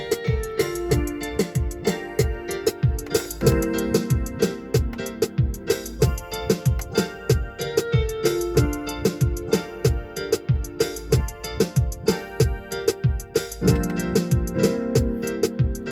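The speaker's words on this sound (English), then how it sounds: "I've looped the piano and I've played the second part in" A looped piano pattern in a reggae track repeats steadily with a second piano line layered over it, playing continuously at even volume with a strong rhythmic pulse.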